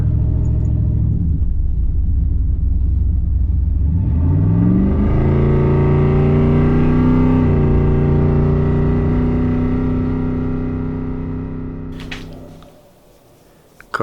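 A third-generation Chevy Camaro engine with a high-stall torque converter idles in gear, its deep, loud rumble wavering and rising in pitch midway, then fading toward a quiet close.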